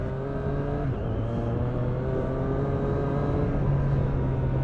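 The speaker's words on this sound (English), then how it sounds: "The exhaust sounds pretty sweet, to be honest with you." A 2020 Triumph Street Triple R motorcycle on its stock exhaust holds a steady, loud engine drone with rising and falling rev tones, recorded close under some wind noise, with no talking.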